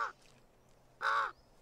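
Two harsh calls from a common raven, the largest crow in the world, each a short rasping caw, separated by a pause of about a second and heard alone.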